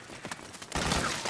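Suppressing gunfire in the video game Metal Gear Solid 4 bursts out as a dense, sustained volley of shots following a few scattered reports, loud and close.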